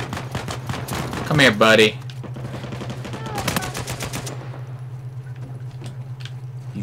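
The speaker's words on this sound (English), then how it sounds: "He's shooting the heck out of me." Gunfire from an online Uncharted 4 multiplayer Team Deathmatch in a village, a rapid burst of sharp shots over a steady background hum, with someone talking over the firing.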